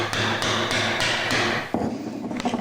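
A chisel struck by a mallet while chopping a mortise, five or six sharp, evenly spaced knocks close up, then a final heavier blow and a short scraping settle.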